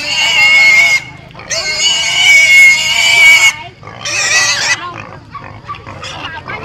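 Pigs being bought at a highland market in northwest Vietnam let out loud, shrill squeals in long bursts close by, with market bustle and voices in the background.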